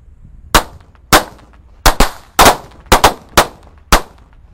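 Sharp, loud paper-wrapped firecracker bangs go off one after another, about eight irregularly spaced cracks with brief quiet gaps between them.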